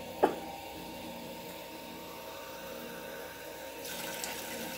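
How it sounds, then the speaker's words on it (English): Tap water runs steadily into canning jars in a kitchen sink, a continuous rushing flow with a brief clink at the start and a slight change in pitch toward the end. "I'm going to finish filling these jars with water"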